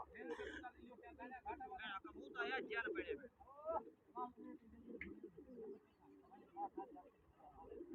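Pigeons coo in a series of throaty calls with soft chirps, fairly close, while people talk steadily over them.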